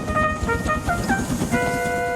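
A steam engine whistle from the Thomas the Tank Engine stories sounds in several short tonal toots, fairly loud and close, over a low rumbling background.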